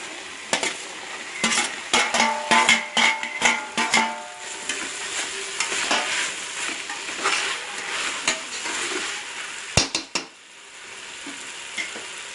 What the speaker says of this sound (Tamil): இப்போ நம்ம இந்த வெட்டி கட் பண்ணி வச்சிருக்க காய்கறி எல்லாம் போடுறோம்